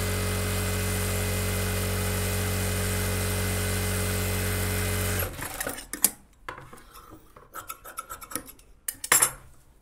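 A sewing machine runs a steady, loud, continuous rough stitch through the lining hem of a puff sleeve for about five seconds, then stops, leaving scattered handling clicks and rustles of fabric.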